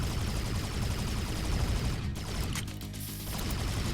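Small spacecraft guns in Subdivision Infinity DX fire steadily at a larger enemy ship, a dense, unbroken stream of rapid shots lasting several seconds, loud and with no talking.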